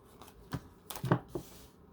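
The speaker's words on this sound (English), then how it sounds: "I'm just going to pull all the cards out." Tarot cards are pulled from the deck in a few quick, soft slaps and rustles, close and fairly quiet, with no talking.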